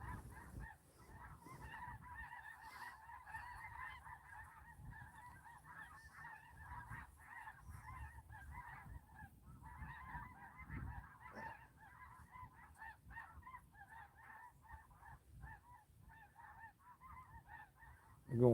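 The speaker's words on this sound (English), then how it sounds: "Did y'all hear them geese? Yes, they're loud." A flock of geese honks steadily while flying overhead ahead of an ice storm, a dense chorus of overlapping calls at moderate distance over faint low rumble, with no talk.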